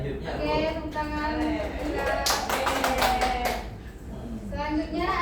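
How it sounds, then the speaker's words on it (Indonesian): A class claps hands in a quick, rhythmic burst amid children's voices and chatter in a classroom. "Oke, tepuk tangan."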